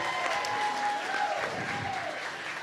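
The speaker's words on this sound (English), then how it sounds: "Give them a round of applause." An auction audience breaks into applause after a winning bid, steady clapping from the crowd with a faint high tone and some murmuring beneath, lasting a couple of seconds.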